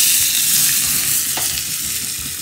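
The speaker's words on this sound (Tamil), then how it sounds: "மேலாக பெருங்காயத்தை போட்டு நான் வந்து சூடாக தாளித்து விட்டுறேன்" Asafoetida hits hot oil in a tempering for chow chow poricha kootu, giving a steady close sizzle and crackle that holds throughout, with a few small clinks and no voices.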